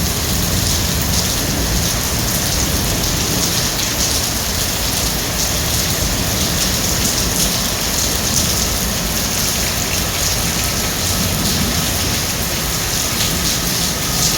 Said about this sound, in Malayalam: മഴവെള്ളം പെയ്യുന്ന ശബ്ദം കേൾക്കാണ്ടാവുമല്ലോ